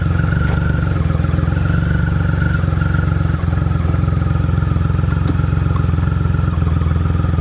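A 2006 Triumph Rocket III Classic motorcycle idles with a steady, loud rumbling engine note throughout, close up, with a single brief clunk partway through as the clutch and gear selector are worked.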